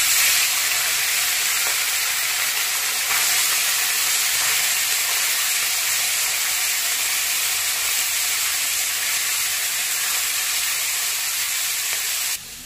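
Small mourola fish frying in hot oil in a pan, a constant loud hiss and sizzle that holds steady from start to end at close range, no voices.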